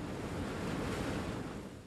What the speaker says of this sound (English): And here come waves, also water-driven.